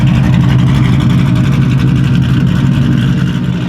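A truck engine fitted with a Comp Cams camshaft idles steadily up close, a loud, continuous low rumble with a choppy, uneven lope throughout, no talking over it.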